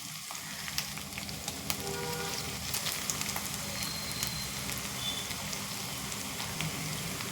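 Dried red chilies and cashews fry in hot ghee, a continuous close sizzle and crackle with scattered pops and light stirring.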